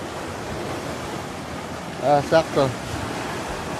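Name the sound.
sea waves crashing on the shore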